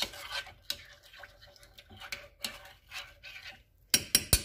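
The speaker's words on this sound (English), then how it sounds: "you want to cook it continuously stirring until it thickens" A whisk scrapes and stirs lemon chiffon pie filling as it cooks in a pot, making soft, repeated rubbing strokes with faint clinks of metal against the pan, then a few sharper taps at the end.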